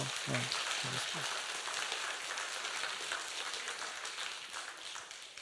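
A church congregation applauds a visiting missionary during Sunday worship, a dense, even wash of clapping that carries on throughout, with a brief voice near the start.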